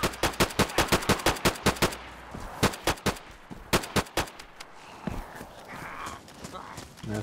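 UMP submachine gun emptying a full magazine in DayZ, a fast string of loud, evenly spaced shots followed by a few more scattered bursts and then quieter movement noise.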